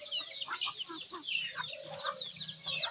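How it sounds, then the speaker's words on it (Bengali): Chickens on a family farm cluck and call in a busy, continuous flock chorus with many overlapping bursts, near and moderately loud, as the birds gather around a poultry shed. "দেখছেন মুরগি চলে আসছে।"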